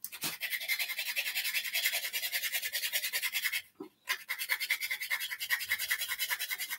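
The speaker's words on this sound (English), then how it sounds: "I'm just going to grate some nutmeg in the mix." Nutmeg is grated by hand for Jamaican-style coconut cakes. There are rapid, close, rhythmic rasping strokes, continuous except for one brief pause.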